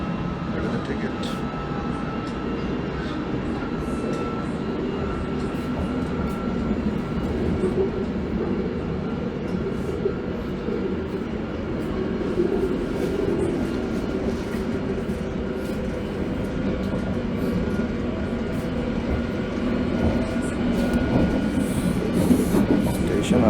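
A London Underground tube train runs near Notting Hill Gate with a continuous loud rumble and rattle of the carriage, and faint voices are heard in the car.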